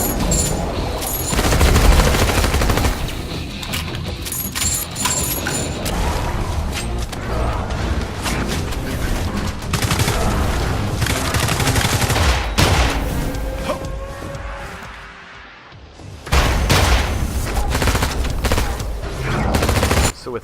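Uzi gunfire in the video game Immortal Redneck: loud, continuous rapid bursts of automatic fire with booms and clatter mixed in, easing briefly before resuming at full intensity.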